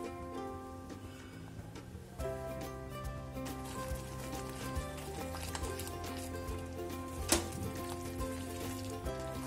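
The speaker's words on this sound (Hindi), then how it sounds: "करीब 2 मिनट तक हम इसे भून लेंगे।" Chopped onions fry in a pan for a cottage cheese korma, giving a steady soft sizzle and crackle, with faint sustained tones underneath and no talking.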